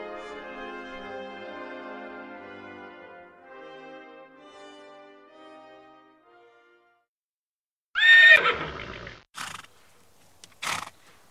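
A horse neighs loudly and close by after a stretch of orchestral music, with two shorter snorts or whinnies following at intervals.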